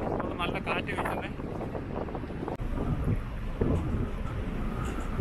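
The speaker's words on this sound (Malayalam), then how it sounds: "നല്ല കാറ്റ് വീശുന്നുണ്ട്. ആ സൈഡിൽ നല്ല കാറ്റ്." Strong wind buffeting a microphone on a ferry deck near Londonderry, Northern Ireland, with heavy continuous roaring gusts and low rumbling from the boat, loud and close.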